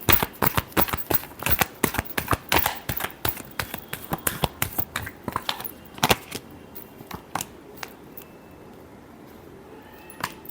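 Tarot cards are shuffled close up in rapid, crisp flicking bursts of taps that thin out into sparser snaps toward the end, with no talking.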